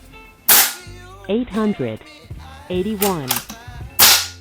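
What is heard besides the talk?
FX Wildcat Compact .22 caliber air rifle shots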